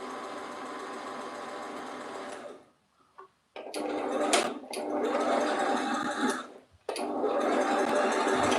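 A sewing machine runs in steady, loud bursts of stitching, stopping briefly around three seconds and again near seven before starting up once more.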